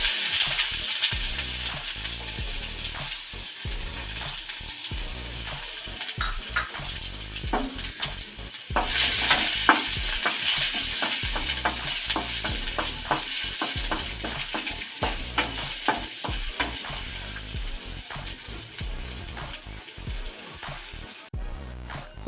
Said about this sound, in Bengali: গোটা জিরে দিলাম, শুকনো লঙ্কা দিলাম, আর এখানে রসুন আর পেঁয়াজ কুচি দিলাম।